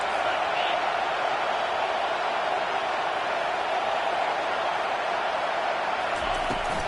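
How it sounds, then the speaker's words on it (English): Football stadium crowd roaring and cheering early in a game, a steady broadband wash of many voices held at an even level throughout with no clear breaks. "This crowd bringing the energy and noise early."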